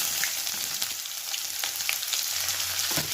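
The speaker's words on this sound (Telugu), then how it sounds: "ఆనియన్ తొందరగా వేగుతాయి" Onions fry in a pan with mustard seeds and cumin for a curry, giving a steady, close sizzle with faint crackles throughout and no talking.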